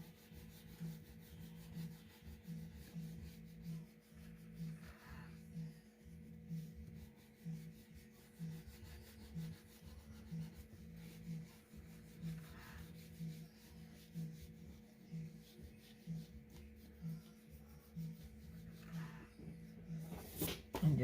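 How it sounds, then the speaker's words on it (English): A crayon laid on its side colors paper in steady, soft rubbing strokes, faint and repetitive over a low background hum. "when you're coloring bigger areas, you can put your crayon on its side."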